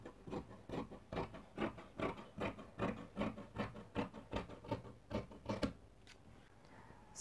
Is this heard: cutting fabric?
yes